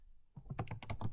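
Quick bursts of keystrokes on a computer keyboard clatter close by after a short silence, about eight rapid taps in an even patter, quiet and without speech.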